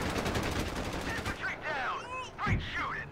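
Gunfire from a World War II battle in the strategy game Company of Heroes 3, a dense rattle of rapid shots for the first second and a half, then scattered bursts and whizzing sounds through the rest.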